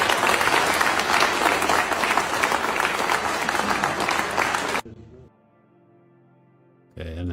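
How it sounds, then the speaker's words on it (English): Loud, dense applause from an audience fills the first part, then cuts off abruptly into near silence before clapping bursts back in at the end. "The clapping is loud, isn't it?"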